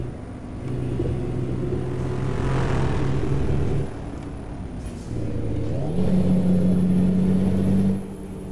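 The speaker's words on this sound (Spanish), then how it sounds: "Me encanta cómo suena este autobús." A Higer double-decker bus engine labors up a steep hill, its deep rumble rising and shifting pitch as it works through gears, loud and continuous from inside the vehicle.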